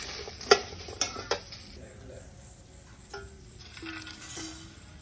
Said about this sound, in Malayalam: നമ്മുടെ വെണ്ടക്ക ഏകദേശം ഫ്രൈ ആയിട്ടുണ്ട്